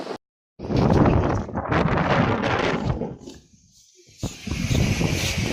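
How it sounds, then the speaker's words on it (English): Heavy wind in San Juan, Puerto Rico buffeting the microphone in loud, rumbling gusts, with a brief lull before it roars back. "I can't record videos because it's too windy"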